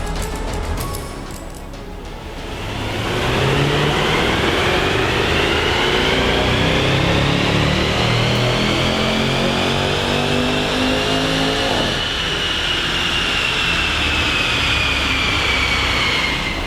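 A supercharged Range Rover Velar on a dyno, its engine climbing steadily in pitch through a long loud pull, then settling into a sustained high roar, with no voices.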